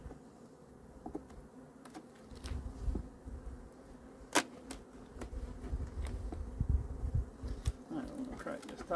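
Honey bees buzz steadily around an opened hive box during a mid-October colony inspection, a close, droning hum with occasional clicks and knocks from handling frames.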